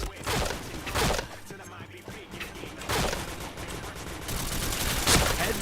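Rapid bursts of gunfire in a shooter video game, several loud clustered volleys crackling across a few seconds, close and dense, with voices faintly underneath.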